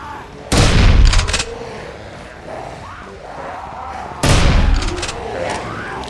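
Two loud, booming bursts of gunfire from a weapon in the PS5 shooter Blood Waves, the first at about half a second and the second near four seconds, with softer game noise filling the gap between them.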